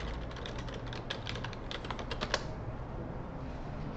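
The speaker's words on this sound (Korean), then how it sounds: "검색란에는 여기 검정콩 요리라고 적고 엔터를 쳐볼게요" Rapid clicking keystrokes on a computer keyboard while a search term is typed, ending with a sharper press of the Enter key, then quiet room noise; fairly close, with no talking.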